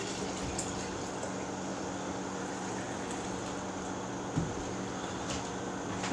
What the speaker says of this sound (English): Pour it in your quart jar up to 1/2 inch from the rim.